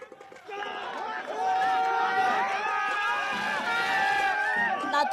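Party workers in Latur celebrating election results, a dense crowd of excited voices and shouts swelling after a quieter start, then staying loud and busy throughout.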